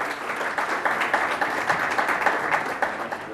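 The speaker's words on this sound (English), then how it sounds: "Big round of applause once again." Steady, dense applause from a conference audience at an international galvanizing industry event, continuous clapping filling the hall for several seconds with no one speaking.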